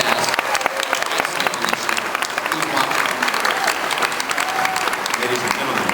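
A dense, steady wave of applause rolls from a large audience at a 2009 Phineas and Ferb fan convention panel and stays loud for the whole stretch, with voices faintly mixed in.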